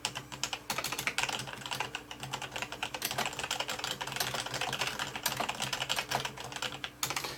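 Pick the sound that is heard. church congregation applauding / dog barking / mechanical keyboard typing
mechanical keyboard typing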